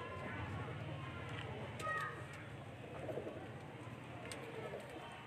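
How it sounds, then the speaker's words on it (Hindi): Pigeons cooing in low, throaty repeated calls on a rooftop in Tando Allahyar, with background chatter and scattered clicks around them at moderate distance. "हमारे उस्ताद जुम्मन हैं, जिनकी बदौलत ऐसे नायाब कबूतर जो है ना हमारे जाल में भी आपको मिलेंगे।"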